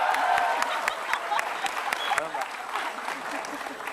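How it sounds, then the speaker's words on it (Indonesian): A television talk show studio audience applauds a guest, steady crowd clapping with sharp individual claps throughout, a voice speaking over it. "tepuk tangan dong Ayah ASI"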